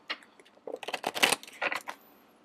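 Tarot cards are shuffled by hand in a quick, uneven flurry of soft riffling clicks and flaps, close and quiet.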